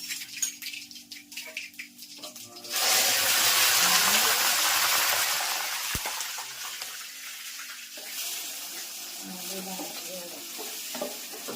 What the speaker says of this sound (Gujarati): મજાનો વઘાર થઈ ગયો છે